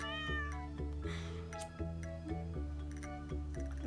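A pet cat in the Stardew Valley video game gives several short meows over plucked game-music tones. The sound is quiet and evenly spaced, with no talking.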